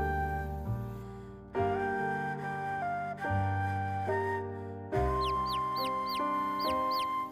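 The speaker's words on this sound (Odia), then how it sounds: "ଆରେ ଏଇ ଚଢେଇ ଛୁଆଟା କଣ ଚିଁ ଚିଁ କରୁଛି?" A baby bird chirps in an Odia cartoon about a fox and a tiger, with repeated short rising tweets over a music bed in the second half.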